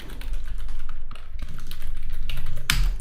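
Fast, close typing on a computer keyboard, with a dense run of light key clicks and one sharper, louder key strike near the end.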